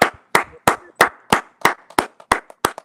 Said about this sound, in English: y'all clap it up, man